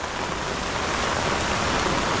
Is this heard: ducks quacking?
no